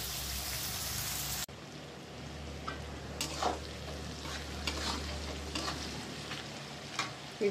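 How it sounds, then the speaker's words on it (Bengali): Salted prawns fry slowly in a pan for a prawn paneer biryani, a soft, even sizzle with scattered pops and stirring scrapes, quiet and close after a brief louder noise at the start. "এখন এটা ধীরে ধীরে ভাজা হোক।"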